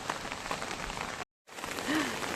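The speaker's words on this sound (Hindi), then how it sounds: "रात भर तो बारिश पड़ रही है" Heavy monsoon rain pours in a dense, steady hiss that is loud and close, cut by a brief moment of silence before it resumes just as strongly.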